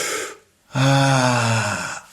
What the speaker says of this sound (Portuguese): Uma respiração abdominal, por exemplo.